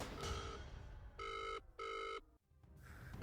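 A telephone rings in two even, loud bursts, with a short pause between them and near silence after, then the room tone returns.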